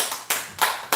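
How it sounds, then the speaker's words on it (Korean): A congregation claps at a Thanksgiving testimony gathering in a church, with three sharp, close bursts of clapping within about a second. "박수 쳤어요."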